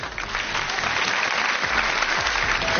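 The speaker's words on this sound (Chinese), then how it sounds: "掌声有请陈劲松先生" Audience applause at a televised Chinese variety show, dense and steady clapping from a sizable studio crowd filling the whole stretch without a break.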